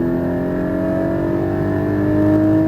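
Porsche Cayman GT4 engine revving hard and accelerating on a race track, a loud steady high-pitched roar with rising harmonics sustained throughout, close and with no talk.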